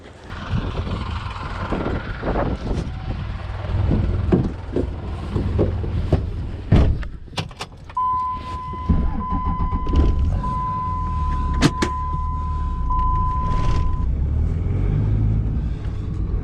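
An old car's rough engine rumbles steadily up close with low drone and occasional clunks and rattles, a brief whistling tone rising over it midway.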